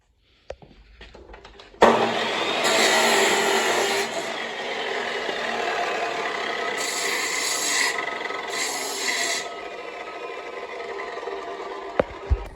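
A bench grinder wheel rasps steadily against the side of a leaf spring during cleaning, a loud continuous grinding with brief surges in intensity and a few sharp knocks near the end.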